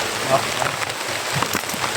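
Rain pours down in a dense hiss, with scattered louder drops pattering close by and faint talk in the background.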